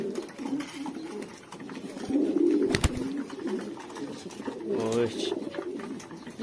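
Rooftop loft pigeons waiting to be fed coo in low throaty bursts close by, with a sharp click or tap partway through and a louder rolling coo near the end.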